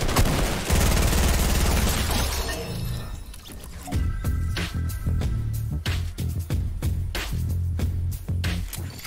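Rapid bursts of gunfire from a Fortnite match, dense and loud at the start, then breaking into a steady run of sharp repeated shots with no talking.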